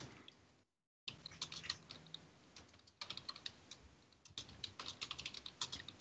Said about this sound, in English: Who's typing dead loud?